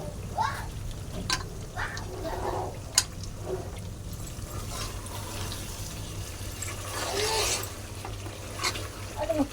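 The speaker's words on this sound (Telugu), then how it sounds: "ఇప్పుడు మరి కాసేపు అలా మిక్స్ చేస్తూ ఉండాలి" Chicken curry being mixed in a pan with the lid off, a continuous sizzle under repeated spatula scrapes and clinks, with a sharp tap near the middle and a brief burst of bubbling toward the end; faint background voice.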